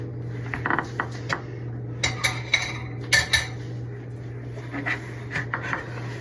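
Cutlery and dishes clink and clatter in a kitchen sink during dishwashing, scattered sharp knocks and rattles over a steady low hum, close and fairly quiet, with no talk.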